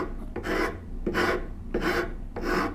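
A rasp shaping the wooden handle of a turned bow saw, four long rhythmic strokes, each a loud gritty scrape with short pauses between, close and with no talk.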